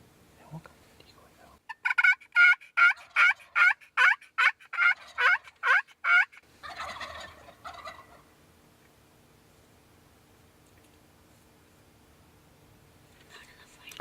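Wild turkey gobbling in a spring hunt setting, a rapid string of about ten loud, close gobbling calls, followed by a short burst of rustling and then a quiet stretch.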